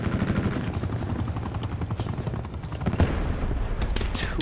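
Enemy helicopter in an online shooter game, a steady loud rotor chop and engine drone filling the whole stretch, with faint gunfire and game effects mixed in.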